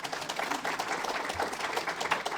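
Audience applause in a room at an artist talk on a fresco mural project, a short dense burst of many hands clapping steadily, moderately loud with no voices over it.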